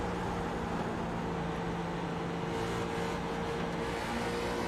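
A Gen 6 Cup race car engine drones continuously in a racing video game at Chicagoland, a dense steady roar with faint pitch shifts as the throttle is feathered through a corner.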